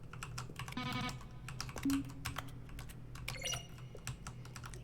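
Keyboard keystrokes in The Stanley Parable office setting, a few scattered taps with brief synthesized tones over a low hum, no talk.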